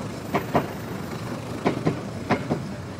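A passing train gives a dull ongoing rumble with paired clacks of wheels over rail joints recurring at a steady rhythm, moderately close and without talk.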